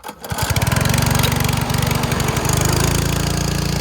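A pull-start lawn mower, choke on, catches almost immediately and runs as a loud, steady, close engine drone with a fast rhythmic pulse, holding level to the end without speech.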